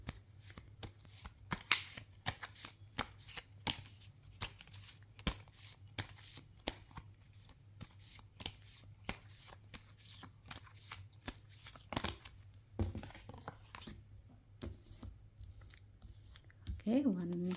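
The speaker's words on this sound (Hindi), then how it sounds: "So whichever will resonate you will select. Okay, so let me shuffle to find out two piles." A deck of tarot cards is shuffled by hand in quick, repeated riffles and slaps, close and crisp, with a voice talking softly now and then.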